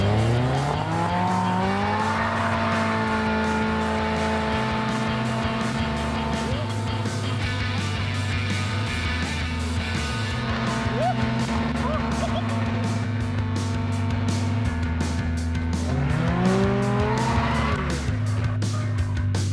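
A car launches in first gear and accelerates hard, its engine droning loudly and steadily while tires squeal, with rising engine whines near the start and the end and speech faintly underneath.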